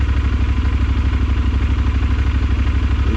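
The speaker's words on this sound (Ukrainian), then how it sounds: "Зараз прогріється мотик." A motorcycle engine warms up at idle before a ride in the Carpathians, a steady, loud, close chugging pulse that runs evenly through the whole stretch with no voices.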